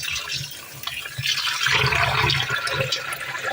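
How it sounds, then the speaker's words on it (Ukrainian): Cold water pouring from a tap over pork meat in a container, a steady rushing splash that swells and fills for a few seconds. "А далі м'ясо необхідно залити холодною водою"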